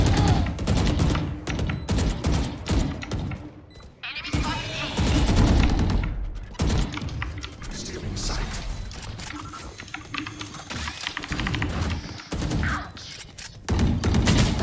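Rapid gunfire bursts from a Valorant match crackle loudly and near, with short pauses between volleys and overlapping shouted voices and keyboard clatter.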